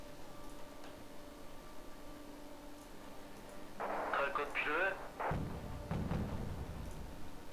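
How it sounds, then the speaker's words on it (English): Artillery fire in the Wargame: Red Dragon strategy game, a few muffled distant thumps under a steady low background, while someone talks over it in the middle of the stretch. "There comes some more artillery."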